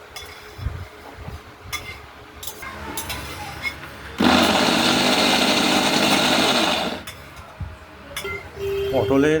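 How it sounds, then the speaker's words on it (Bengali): A kitchen mixer grinder whirs loudly as it blends pointed gourd into a paste for a bharta, a sustained mechanical roar lasting a few seconds between quieter stretches of speech and clinking. "মিক্সি মেশিনে খুব সহজে কাজটা হয়ে গেল"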